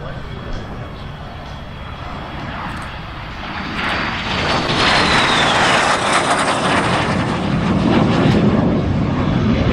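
Aerobatic airshow plane at EAA AirVenture Oshkosh 2025 passing with smoke on, a loud propeller engine drone that builds as it sweeps closer overhead, with a commentator talking over it.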